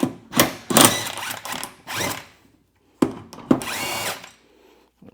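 A power tool spinning off the 9/16 blade bolt of a Briggs and Stratton lawn mower, several short loud bursts of impact whirring separated by pauses and faint rattles.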